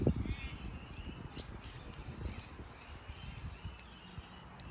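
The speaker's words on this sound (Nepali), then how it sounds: "चरा चुरुङ्गीको आवाज सुन्दै हुनुहुन्छ होला" Crows caw faintly over low outdoor rumble in a green rural spot beside a canal near a village house, with a few scattered calls and no talk.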